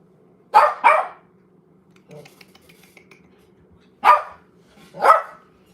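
A dog barks in two pairs of sharp, close barks separated by a quiet gap, over a faint low hum and a few soft clicks.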